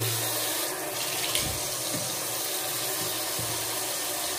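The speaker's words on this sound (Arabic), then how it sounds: "المهم بالنسبه لدابا غادي نغسل وجهي" Water from a tap pours steadily into a sink during face washing, a continuous close rushing with small splashes and no talking.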